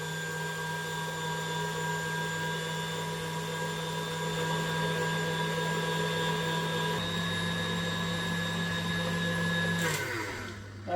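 Electric mixer whirring at full speed through sponge batter with vanilla extract, a loud steady motor hum that holds for about ten seconds before winding down and stopping.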